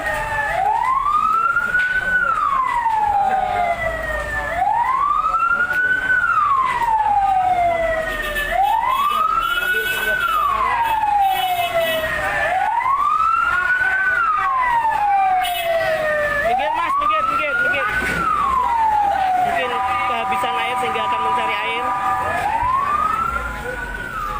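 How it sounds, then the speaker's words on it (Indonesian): A backup fire engine's wailing siren rises and falls in steady repeating cycles as it arrives at a market fire in Weleri, Kendal, loud and close, with road traffic and voices underneath. "Mobil pemadam bantuannya"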